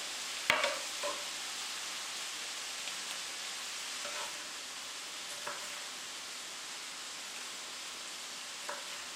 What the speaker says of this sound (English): Just stir that through your mince.